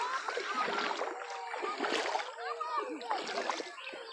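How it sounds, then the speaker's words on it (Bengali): Someone wades across a village canal with no boat available, producing repeated splashes and sloshing water strokes, fairly close, with voices talking over the splashing. "পানির ভিতর দিয়ে যাইতে হইব।"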